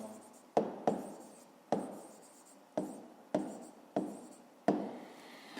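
A pen writes by hand on paper for a fifth-grade math exercise in short scratchy strokes, about seven separate bursts each fading quickly, close and quiet, with no talking.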